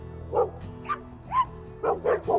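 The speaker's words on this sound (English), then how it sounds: "So she's barking at her now instead of the dog" A dog barks in short bursts, several sharp yaps and woofs spaced irregularly, close by over a quiet background hum.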